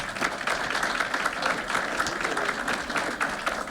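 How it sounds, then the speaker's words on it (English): Sustained applause from those attending a Board of Education meeting, honoring a girls' soccer athlete named conference Player of the Year and second team All-State, steady dense clapping throughout with no talk over it. "So we could give her a round of applause."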